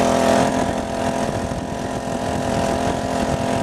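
A small engine on a motorized side-by-side tandem bicycle hums steadily at a low pace, a close, even buzz without variation in speed.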